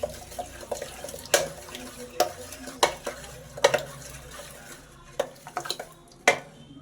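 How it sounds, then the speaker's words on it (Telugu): Cooked dal being mashed with a wooden masher in a pot, a series of irregular thumping knocks and squishes over several seconds, with a faint wet background. "పప్పు ఈ విధంగా పప్పు గుత్తితో చేయడం వల్ల సాఫ్ట్గా అయిపోతుంది."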